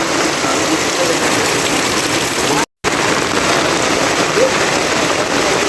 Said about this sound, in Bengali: প্রচুর বৃষ্টি নামছে